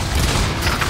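A 150 mm cannon fires in Earth Defense Force 5, a short, dense burst of booming, gritty noise that stays loud and fills the whole moment without any talk.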